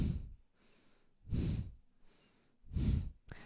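Powerful breathing through the nose during Kundalini yoga: three strong, rhythmic nasal breaths about every second and a half, close and breathy, with quiet gaps between them and no talk.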